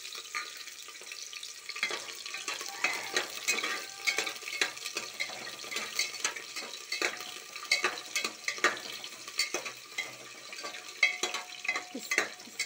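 Onions sizzle in hot oil with panch phoron in a pan, with frequent scraping stirs and crackling pops at a moderate, close level and no talking.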